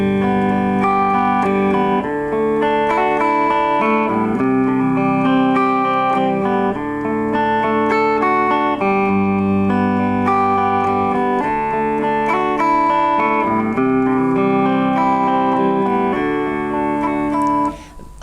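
Guitar chords ring out with effects, sustained and full, in a steady strummed progression that carries on alone without talk for about eighteen seconds.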